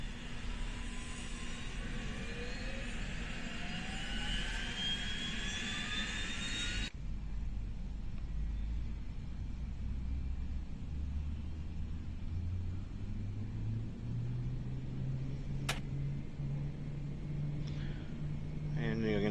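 Engine 2 of a Q400 turboprop starting in a flight simulator: a steady rumbling whine with a low tone slowly climbing in pitch as it spools up, a faint click midway, continuous and fairly loud.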